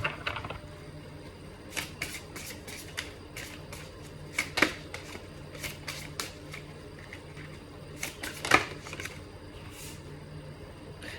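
Oracle cards shuffled by hand for a three-card draw, a run of soft close flicks and riffles with a few sharper snaps, quiet and without talk.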